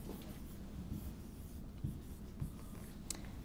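A teacher writes on a classroom board, producing soft intermittent scratchy strokes and taps, faint against a steady low room hum.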